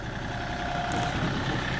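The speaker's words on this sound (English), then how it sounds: "Ben's gonna run the tractor" A tractor engine runs steadily at idle, a continuous low rumble with an even, unbroken drone from start to finish and no voices over it.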